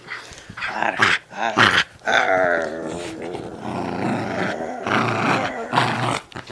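A dog growls and snarls up close, loud and sustained in rough bursts with brief gaps, with no other sounds alongside.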